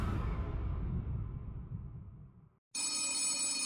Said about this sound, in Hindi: तब विजय के दूसरे भाई ने चमन को फोन किया